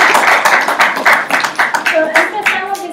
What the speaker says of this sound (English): I'd love to hear an applause for our students.